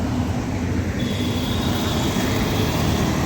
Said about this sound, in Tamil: காலையில் பார்த்தீங்கன்னா செம்ம டிராஃபிக்கு.